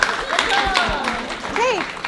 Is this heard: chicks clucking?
no